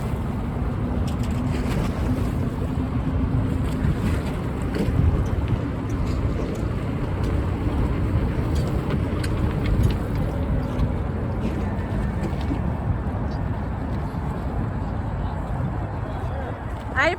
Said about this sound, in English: We just missed the boat parade.